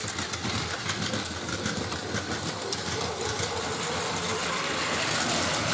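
A steady mechanical rumble and whirr of a small toy train running continuously on plastic tracks, with a faint clattering texture throughout and no voices.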